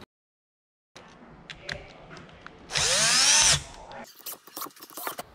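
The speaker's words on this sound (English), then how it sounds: "I'm using a Torx T20 to tighten the bolts to the motor." A Torx T20 driver whines in one short, loud burst while tightening bolts on a 12V sprayer pump motor, with quieter clicks and handling noises before and after.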